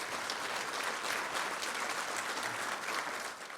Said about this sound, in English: Let's all first give him a huge round of applause.